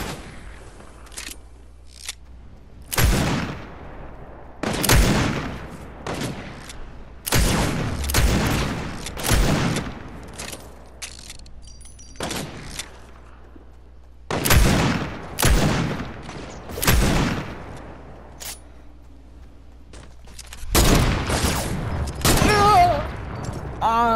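Desert Eagle pistol shots in a shooter video game ring out as a series of loud, sharp bursts, single cracks and short clusters spaced a few seconds apart, with near-silent gaps between them.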